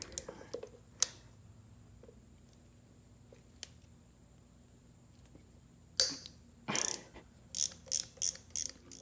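Ratchet loosening 8mm bolts on the coolant tubes atop the cylinder heads of a Kawasaki Vulcan 750 motorcycle engine, heard as a few isolated clicks and then a quick burst of close, rhythmic ratcheting strokes near the end.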